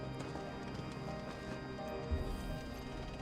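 Hoofbeats of a large horse-like mount ridden in Final Fantasy XVI, a fast clopping rhythm buried under dense game music and ambience, steady throughout with a brief low thump partway.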